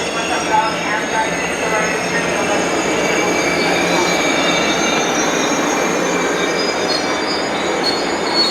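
Amtrak train 579 bound for Los Angeles rolls past at close range, a loud continuous roar of wheels on rail with high steel squeal riding over it throughout.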